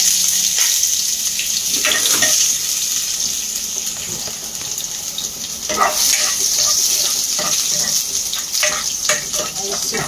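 Garlic, onion and chicken sautéing for chicken adobo, a bright continuous sizzle in a hot pan with bursts of stirring and splashing, loud and close, with no talking.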